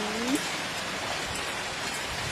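Steady rain pours down outside a house near fish ponds, a dense even hiss of drops on surfaces that holds constant throughout, with no voices over it.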